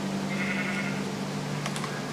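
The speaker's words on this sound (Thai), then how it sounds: "นี่คือแกะนะครับ เราตัดขนแกะเลยนะครับ" A sheep in the Minecraft video game bleats in a short, steady synthetic tone over a dense background hum, followed by a couple of brief clicks.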